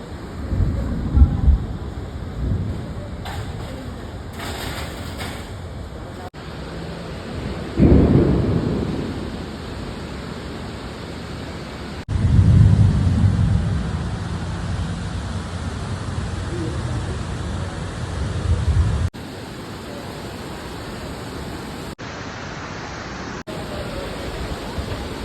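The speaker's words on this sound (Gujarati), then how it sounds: "છત્તીસગઢ રાયપુરમાં એરપોર્ટમાં અત્યારે અહીંયા વરસાદ ચાલુ થઈ ગયો" Rain falls at Raipur Airport in Chhattisgarh with thunder rolling through, a steady broadband wash punctuated by several low, loud rumbles, with a few abrupt cuts in the recording.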